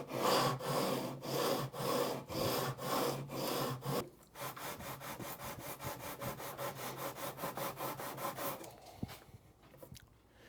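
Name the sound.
sanding guitar frets with 240 grit sandpaper on a straight beam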